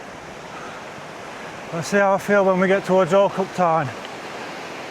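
A waterfall near Alcock Tarn in the Lake District gives a steady, rushing wash of water noise throughout, with someone speaking briefly over it.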